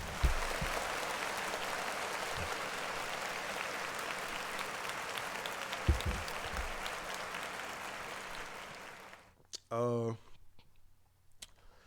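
A live show audience claps in a steady, dense wash for about nine seconds, with a few sharper thumps along the way, then stops abruptly. A brief burst of voice and noise follows.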